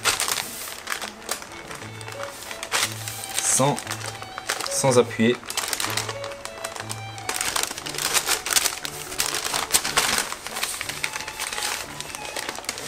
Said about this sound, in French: Et là, on va rouler le biscuit.